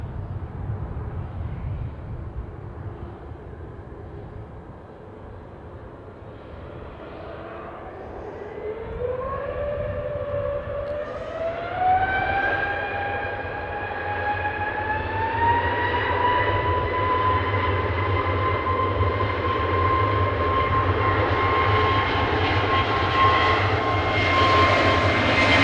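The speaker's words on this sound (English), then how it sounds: "So Airbus A319-100, registration OH, LVD, from Helsinki, and it's a 25-year-old aircraft." A 25-year-old Airbus A319-100 jet at Manchester Airport spools up its engines, a low roar joined by a rising whine that climbs and then holds steady, loud and growing, with no talking.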